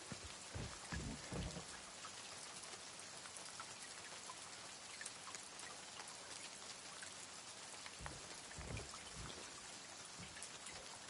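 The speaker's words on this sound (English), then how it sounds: "oh, look, it's raining now." Steady rain falls in the Silent Hill 2 Remake video game, a faint, continuous hiss of drops pattering on surfaces, with a few soft low thumps scattered through.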